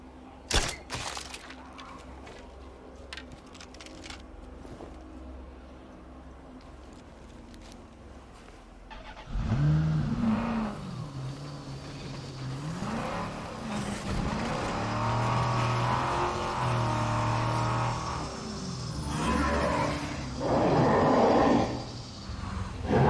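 Truck engine in a video game, revving and rising in pitch as the vehicle drives off, loud and sustained after an initial stretch of quieter gunfire-like clicks and ambient game noise.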